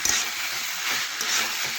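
Cauliflower, potato and a fish head being stirred and sautéed in a pan, giving a steady close sizzle with soft scraping of the stirring utensil throughout, no talking.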